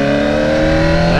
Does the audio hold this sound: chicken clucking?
no